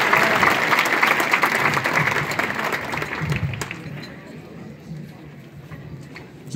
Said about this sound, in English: Come on and give this group another round of applause.